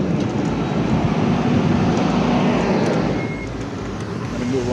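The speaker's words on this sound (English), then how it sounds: "I'm in the way of this truck here" A truck rumbles along a road near someone out on an electric bike, a steady low engine and traffic roar lasting nearly five seconds and dipping slightly toward the end.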